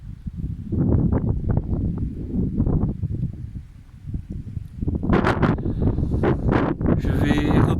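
Wind rushes across the ocean clifftops above Beliche beach near Cape Saint-Vincent, buffeting the microphone in loud, uneven gusts, with a brief lull midway before the roar picks up again.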